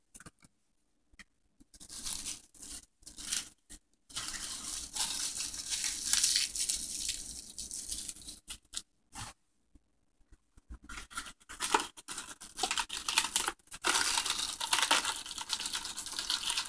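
A paper towel rips off the roll in a kitchen, a few close, sharp tearing and crinkling bursts broken by silent pauses.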